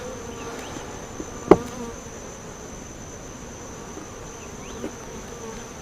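Honeybees buzz around a beehive outdoors, a faint, steady hum of insects with a single sharp knock partway through and a softer one near the end.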